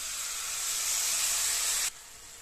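Water poured onto hot garam masala in a cooking pan sets off a loud, steady hiss of steam and sizzle that holds for nearly two seconds, then abruptly drops to a quieter simmer.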